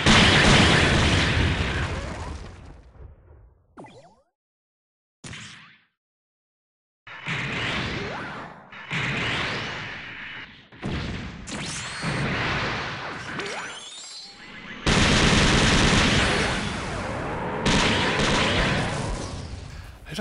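Justice Gundam from SD Gundam Online unloads repeated volleys of booming beam and missile fire, dense loud blasts in long bursts broken by short silent gaps while reloading.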